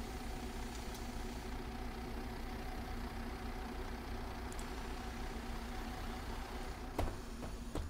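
A MAN A 25 city bus in the OMSI 2 bus simulator idles at a terminal stop, its engine a low, steady rumble that runs evenly with no revving. A couple of faint clicks cut in near the end.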